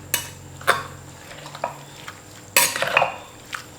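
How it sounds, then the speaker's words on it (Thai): Pomelo salad being tossed with oil in a bowl, a few scattered clinks and scraping stir sounds with quiet gaps between them, close and without talk. "จากนั้นก็คลุกนะครับผมคลุกให้น้ำมันเข้านะฮะ"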